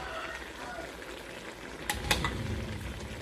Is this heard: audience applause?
no